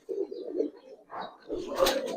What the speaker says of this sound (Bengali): এখানে যেমন কবুতর আছে, এছাড়াও এইদিকেও বেশ কিছু কবুতর আছে